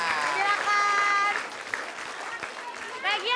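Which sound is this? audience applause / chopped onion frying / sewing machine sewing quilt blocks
audience applause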